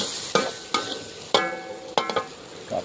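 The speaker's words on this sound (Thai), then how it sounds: "ก็ผัดมาได้สักพักหนึ่งแล้ว" Holy basil stir-fry with rat meat cooking in a pan, a spatula scraping the metal in four or five sharp, close strokes over a soft background sizzle.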